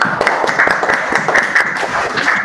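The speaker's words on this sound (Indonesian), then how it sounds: "Boleh tepuk tangan." Dense, steady clapping from a group of people, fairly loud and continuous with no voices standing out, lasting a few seconds.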